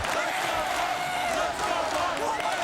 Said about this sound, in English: They're actually cheering during a timeout in Columbus, Ohio, Tom.